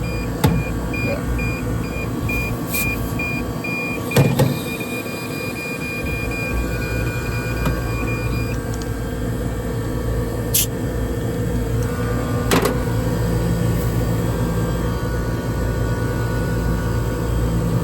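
An HVAC refrigerant leak detector probe set on high gives intermittent beeping tones and brief chirps over a loud, constant fan and machinery drone.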